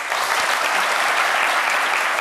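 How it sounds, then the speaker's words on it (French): Steady, dense audience applause for students at a ceremony, loud and continuous throughout the short stretch without a break. "On peut vous applaudir tous ici."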